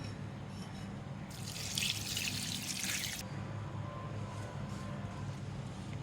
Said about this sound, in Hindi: यखनी डालूँगी इसमें।